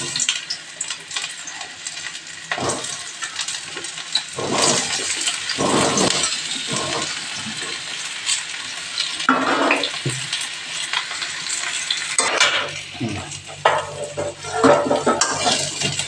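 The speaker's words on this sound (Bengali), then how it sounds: "কাঁঠালগুলো ভেজে নেব।" Jackfruit pieces frying in hot, smoking oil in a pan, giving a continuous loud sizzle and hiss broken by repeated stirring scrapes and clanks of a spatula.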